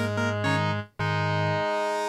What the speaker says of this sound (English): So we're going to use the third oscillator as a sub-oscillator.